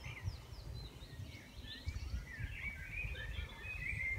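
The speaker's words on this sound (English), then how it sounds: "If you listen, you can hear the birds." Faint birdsong in Wales, with scattered chirps and warbles, drifts from a distance over a low, steady rumble.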